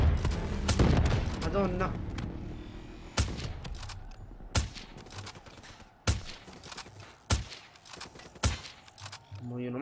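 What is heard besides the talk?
gunfire from robots shooting in Black Ops 3 video game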